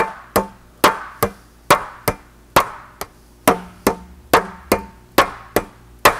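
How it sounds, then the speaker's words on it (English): Hammer blows on sheet metal laid over rubber while shaping a Porsche 550 dash, about fourteen sharp, ringing strikes in a steady, even rhythm, close and loud with no voices. "So you'd need a hammer like this with a face similar to that."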